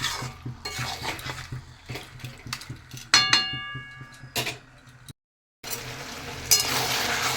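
Mutton frying in spiced masala for Bengali mutton kosha: a spoon scrapes and clinks against the pan in quick stirring strokes over a soft sizzle, with one brief silent gap before the stirring resumes.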